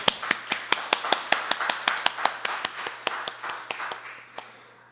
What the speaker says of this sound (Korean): 우리 영광의 박수 올려드릴까요?